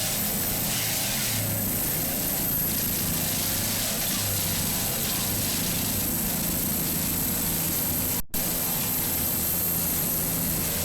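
An offshore racing powerboat's engines roar at full throttle in a 2005 St. Pete race, a loud continuous drone heard from nearby without letup, with a brief dropout near the end.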